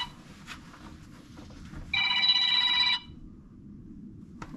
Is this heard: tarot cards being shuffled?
no